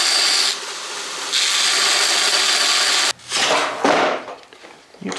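A power grinder bites into a 9010 bronze sprue to take off bulbous lumps, a loud harsh abrasive hiss in sustained bursts that change pitch and pause briefly.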